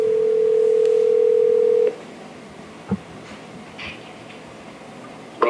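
A telephone plays a steady dial tone for about two seconds, then falls silent apart from a few faint clicks and short dialing beeps as a speed-dial number is called.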